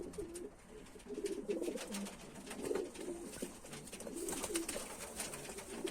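Pigeons a week after vaccination coo softly in repeated low, throaty phrases, with light rustling and scattered clicks in the background.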